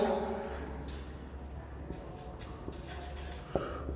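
Pen or marker writing a horizontal-force calculation by hand for a fluid mechanics problem, a faint steady scratching over low room hum, with a few light taps near the end.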